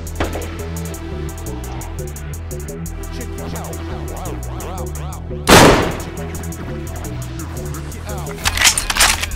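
Gunfire in the DayZ survival game near a fire station, with a loud sharp shot burst midway and a cluster of further shots near the end, heard over steady music and game ambience while players talk.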